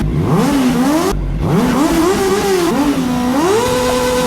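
Several Honda Click scooters revving together at a gathering, engine notes climbing and dipping in overlapping waves, loud and close with a short pause partway through.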